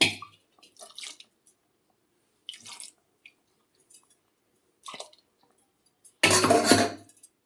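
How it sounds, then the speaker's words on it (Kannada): A blender jar is rinsed with water in a few short splashy bursts of sloshing and dripping, separated by quiet gaps, ending in a louder stronger swish of water near the close. "ಸ್ವಲ್ಪ ಜಾರ್ ತೊಳೆದು ನೀರು ಹಾಕ್ಕೊಳ್ತೀನಿ"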